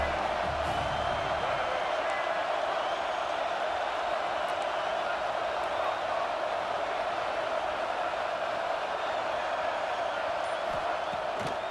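Stadium crowd at an American football game roaring steadily during a big third-down defensive stand, a dense sustained wall of cheering that holds loud throughout.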